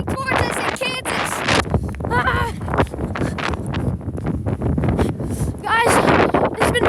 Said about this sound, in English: This wind is blowing crazy.